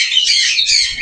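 Blue ringneck parakeets, tame and free-flying, call in a dense burst of shrill, overlapping squawks and chirps, close and loud, with no pauses.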